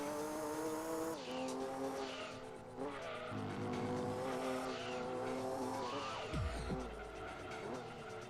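A Toyota GT1 race car in the Gran Turismo 2 video game revs with shifting engine tones, then gives a sharp tire squeal near the end, with talk mixed in quietly.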